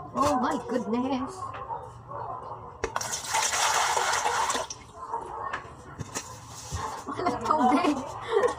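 Water splashing and pouring as seaweed for gulaman jelly is rinsed in a basin, with a burst of running water midway and scattered drips, while someone talks over it.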